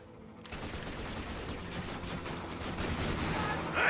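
Autocannon fire in Borderlands 2 comes as a dense, continuous crackling barrage that starts abruptly after a brief quiet moment and keeps building in loudness, with no talking over it.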